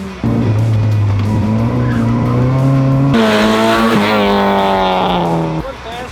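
A London taxi launches hard from a standstill with a loud, close engine roar and tyre squeal, the revs climbing and then jumping sharply as it shifts up before easing off at the end.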